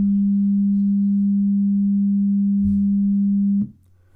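A steady 200 Hz pure tone plays from a computer speaker, loud and unbroken for about three and a half seconds before cutting off abruptly.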